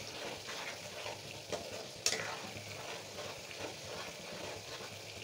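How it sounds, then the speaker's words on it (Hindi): Homemade ghee being stirred with a spoon in a kadhai, a steady low sizzle and bubbling throughout with faint scraping and one sharp clink near the middle, no talking. "देखिए कितना अच्छा से घी निकल रहा है, और चम्मच को तो हिलाते रहना है"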